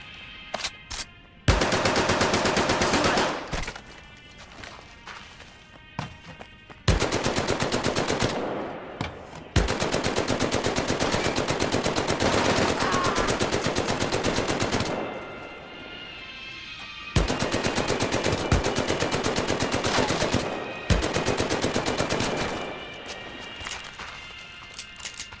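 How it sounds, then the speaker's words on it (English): Video game MP40 submachine gun, set in World War II France, fired in several long sustained full-auto bursts, loud and close, separated by short pauses of near silence. "the MP40 doesn't go wild like other automatic weapons do when firing an entire magazine at once"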